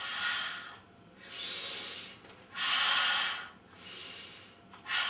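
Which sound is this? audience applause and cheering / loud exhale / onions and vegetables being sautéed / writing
loud exhale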